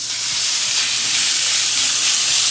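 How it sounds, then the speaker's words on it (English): Bacon sizzling as it hits a smoking-hot pot for seafood chowder, a loud, steady broadband hiss and crackle that holds evenly throughout with no talk. "That's the bacon sizzle"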